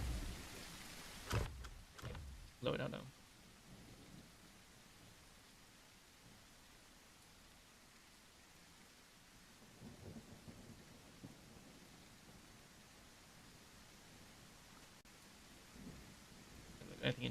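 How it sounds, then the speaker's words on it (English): Rain falls under a thunderstorm, with a couple of sharp, loud thunder cracks early on, then a long, quiet steady patter of rain, and a few brief spoken words near the end. "oh gosh, it's raining."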